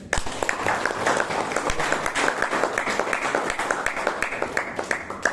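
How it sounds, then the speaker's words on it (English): An audience at a Bangalore Toastmasters club meeting gives the Toastmaster of the day another round of applause, a sustained wash of many hands clapping that stays full and even for several seconds. "Can we give him another round of applause?"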